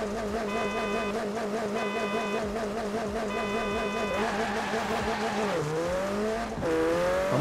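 Racing car engine in Forza Horizon 4 played on a steering wheel, a steady loud drone with shifting pitch, then tires squealing and the revs dipping and climbing near the end.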